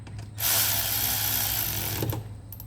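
A power wrench tightens the wheel bolts on a Cessna 177 RG, a loud, close, steady whirring burst of about a second and a half that cuts off, followed by a short second buzz.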